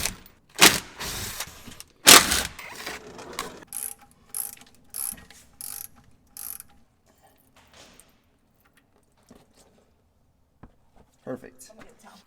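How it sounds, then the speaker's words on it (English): A ratchet wrench loosens 10mm bolts underneath a 2013 Dodge Charger, sounding as bursts of rapid clicking and metallic clanks up close, followed by quieter intermittent taps and rattles. "we've got to take off 4 of these bolts underneath here"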